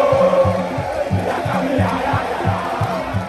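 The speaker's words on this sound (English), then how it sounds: "The crowd acts as a boost of adrenaline for the home side" A football crowd at the Baba Yara Sports Stadium in Ghana backs the Black Stars as the home side. The dense mass of voices roars in a rhythmic, repeating chant-like pattern that pulses steadily throughout.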